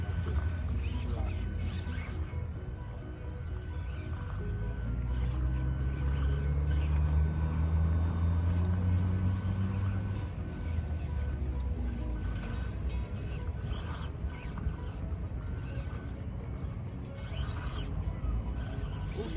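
An Axial Deadbolt RC crawler truck grinds up over a rock, its electric motor whining in rising and falling pitch under steady scraping and crunching, close and continuous throughout.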